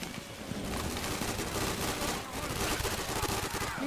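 Dual pistols firing in Left 4 Dead 2, a rapid dense stream of gunshots mixed with game noise, continuous and moderately loud throughout.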